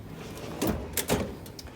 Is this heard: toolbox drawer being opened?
yes